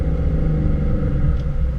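A car fitted with a hand-control throttle rounds a corner at steady throttle, its engine giving a close, even rumble that holds constant throughout with no talk.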